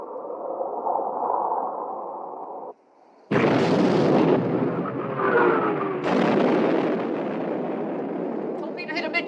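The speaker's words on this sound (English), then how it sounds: "Open fire, main armament." Main guns of a WWII warship fire in the 1960 film Sink the Bismarck, heavy booming blasts that roll into long rumbling echoes, after a low engine drone and a brief pause.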